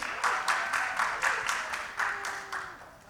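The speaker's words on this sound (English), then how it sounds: "Give a round of applause, everybody." A student government debate audience claps in steady, rhythmic bursts, moderately loud, then the clapping tapers off toward the end.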